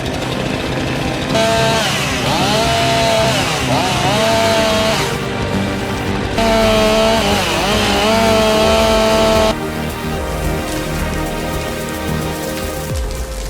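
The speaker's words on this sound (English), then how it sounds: "it's one of the most dangerous tools in the wood industry. The chainsaw." A chainsaw cutting wood, loud and close, its engine revving in long sustained passes with pitch dips as the chain bites, then dropping to a rougher idle near the end.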